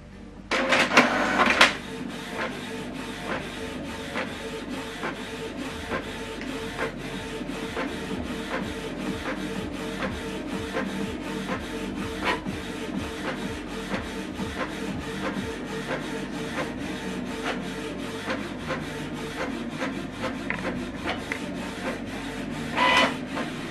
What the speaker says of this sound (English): This document now is printing out colored.